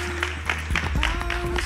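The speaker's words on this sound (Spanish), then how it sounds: "Este aplauso para vosotras." Applause for the women of a physical-activity program, short and fairly loud with overlapping voices and a steady tone running beneath the clapping.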